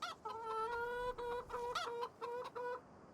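Chickens in the Farming Simulator video game cluck in a steady run of repeated calls with short pauses between them, close and clear with no talking over them.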